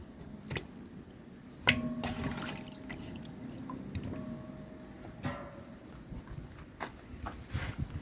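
Pork pigtail rinsed in water for Jamaican stew peas, with sloshing, splashing and soft wet knocks against a pot, close up, in irregular bursts under steady background noise.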